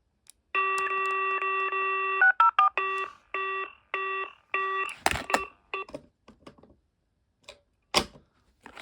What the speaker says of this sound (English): For some reason the line was busy.